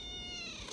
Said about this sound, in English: He said he did a meow goodbye.